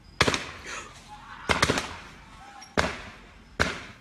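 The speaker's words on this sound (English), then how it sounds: "There were shots like this every so often" Gunshots during a police standoff after an exchange of gunfire at a house on a residential street, four sharp distant cracks spaced about a second apart, each with a short echoing decay.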